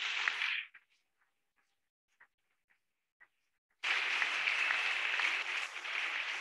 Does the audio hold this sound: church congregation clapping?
yes